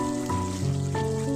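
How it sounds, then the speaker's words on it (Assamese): Chital fish frying dry in a pan with chilli powder, giving a steady, close sizzle alongside a faint tonal hum. "অকণমান ভাজি ল'ম এতিয়া শুকানকৈ।"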